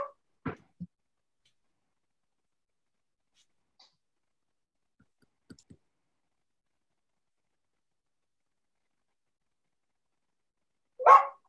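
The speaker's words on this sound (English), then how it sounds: "No one can hear my dog in the background, can they?" A pet dog barks a few times in the background during an online intern cohort meeting, with a couple of short isolated barks near the start and a louder burst at the end, separated by long near-silence.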